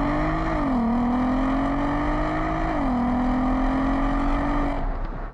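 A 2018 Volkswagen Golf R Mk7.5 engine hums steadily up close, pitch dipping and settling twice before the sound cuts off abruptly.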